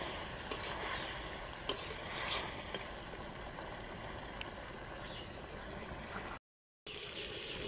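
Grated coconut being stirred into a bottle gourd curry in a pan, with a steady soft scraping and faint sizzle that runs continuously before a brief dropout, then resumes.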